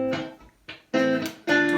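Guitar phrases played in Aeolian mode, the natural minor, as a few plucked notes and chords in separate short bursts with brief gaps between them, close and clear.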